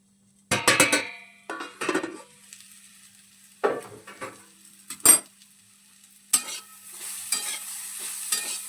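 Pan lid lifted off cooking cauliflower and mixed vegetables in spices, followed by scattered scraping stirs with a spoon and soft sizzling, close and intermittent.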